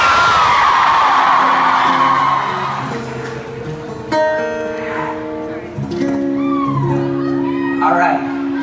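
Concert crowd at a live show whooping and cheering for the band's manager, Michelle, with loud shouts at first, then sustained tones from the band and voices continuing underneath.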